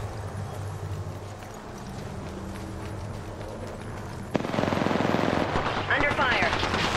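Rapid bursts of automatic gunfire in Apex Legends, a sharp rattling volley that starts partway through and continues loud and close over a quieter stretch of game ambience.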